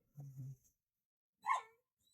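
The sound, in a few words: unhappy dog barking and whimpering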